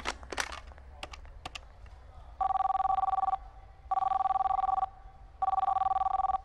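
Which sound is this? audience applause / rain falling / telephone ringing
telephone ringing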